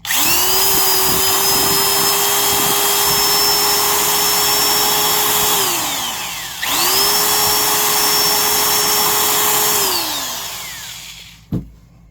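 A Black & Decker Super Duty 5/16-inch D-handle drill whines at a steady high pitch, runs twice with a brief pause, winds down each time, then a single sharp click.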